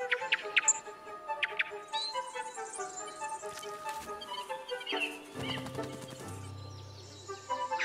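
Birds chirp among juniper trees in a forest, with bright, quick calls and trills at varied pitches over a continuous background.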